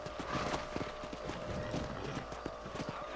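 Horse hooves clip-clop in a quick, steady rhythm in Red Dead Redemption, fairly close and soft in level, with a brief whinny-like tone mixed in.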